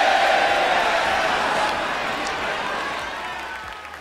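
Crowd applause and cheering in the idol management video game Idol Manager, a broad wash of clapping that slowly tapers off after an idol group's stage performance.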